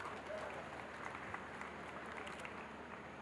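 Faint, distant applause from a university convocation audience greeting the chancellor, a soft continuous patter of clapping.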